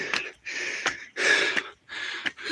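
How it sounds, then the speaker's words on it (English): A person walking uphill pants heavily, giving four loud, close, breathy exhalations in an uneven rhythm. "You can probably hear that I'm panting."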